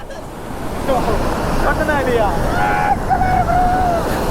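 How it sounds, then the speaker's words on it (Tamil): A river runs with strong force, loud rushing water and wind buffeting the microphone throughout, with a voice-like tonal sound rising over it partway through. "தண்ணி செம்ம ஃபோர்ஸா போகுது."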